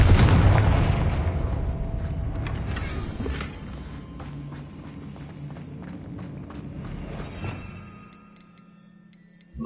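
In the Hogwarts Legacy game, a Confringo fire spell bursts in a loud explosion at the start. The blast fades into crackling rumble and scattered ticks, then drops to near quiet at the close.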